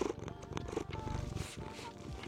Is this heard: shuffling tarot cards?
no